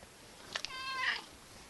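A cat being petted gives a single short, faint meow, a brief rising then falling call heard close up in a quiet room.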